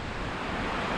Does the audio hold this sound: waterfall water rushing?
yes